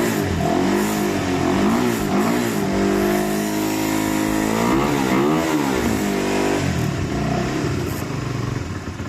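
A 2024 Rusi Flash 150X motorcycle engine idles and revs steadily throughout, with rising and falling pitch sweeps as the throttle is worked, close and continuous with no talk.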